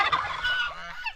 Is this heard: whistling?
no